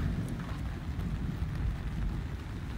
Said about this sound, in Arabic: اسمع صوت المطر